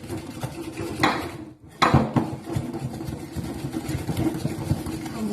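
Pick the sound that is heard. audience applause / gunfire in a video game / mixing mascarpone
mixing mascarpone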